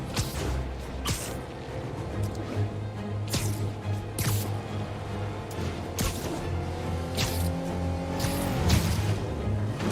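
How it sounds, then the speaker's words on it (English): A car chase in Marvel's Spider-Man video game, with a steady engine roar, a rising tire squeal and sharp impacts over a busy game soundtrack. "Now I just have to stop that car."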